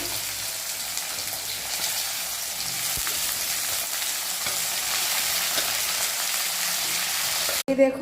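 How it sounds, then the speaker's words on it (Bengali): Mixed vegetables cook in a pan with a steady, fairly loud sizzle and faint stirring, ending in a brief, sharp clatter. "তো এখানে রান্না হচ্ছে"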